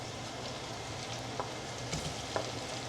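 Onions sautéing in a pan while pasta sauce is made at home, a steady low sizzle with a few faint stirring clicks and scrapes, close and fairly quiet throughout.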